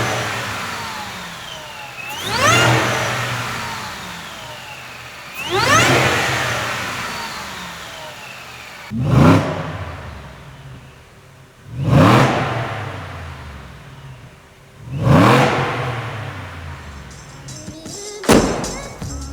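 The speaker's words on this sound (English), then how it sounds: "so you can really hear the induction noise" A Ford truck fitted with a Whipple Stage 2 supercharger and stock exhaust revs loudly six times in a row, each rising whine of induction noise swelling up and then falling away, with a thump or two and no talking.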